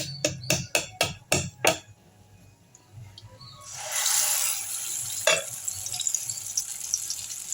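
Thattu vadai batter goes into hot oil after a quick series of six sharp taps, then a steady bubbling sizzle swells up and continues close by, with a single clink partway through.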